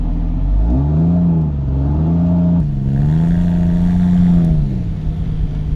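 A 4WD engine revs hard while climbing one of Australia's tallest sand dunes, its loud, close drone rising and falling in pitch through several surges of throttle.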